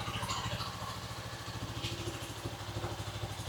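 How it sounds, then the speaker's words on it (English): A 1983 Yamaha Riva 180 scooter engine idling steadily and close by, a low, even putter with a light mechanical clatter on top, no voices. "It's idling perfect."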